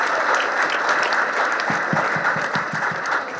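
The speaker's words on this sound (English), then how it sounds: "Please give them a round of applause" An audience claps steadily through a loud, sustained round of applause after a question session, with a few sharper individual claps standing out near the end.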